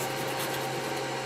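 Steady close scraping and rubbing as old material is removed inside an Optonica SM1616 stereo under restoration, a continuous raspy texture with no breaks over a short span.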